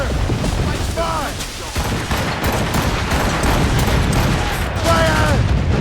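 Ship cannon fire in Assassin's Creed Rogue, repeated heavy booms and crackling volleys over a continuous noisy battle din, with a crew voice calling out.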